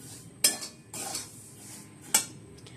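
Semolina roasts dry in a pan while a spoon stirs it, making two sharp metallic clinks and a stretch of scraping between them against a quiet background.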